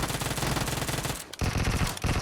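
Rapid, continuous P90 submachine-gun fire in PUBG Mobile, loud and close, with a brief pause near the middle before the bursts resume; no talking.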